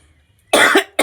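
A person coughs outdoors beside an open fire and a makeshift clay stove while pitha is being made, giving one loud, close cough burst and the start of a second.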